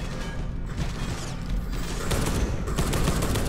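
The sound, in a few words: enemy machine gun fire, from video game Space Hulk: Deathwing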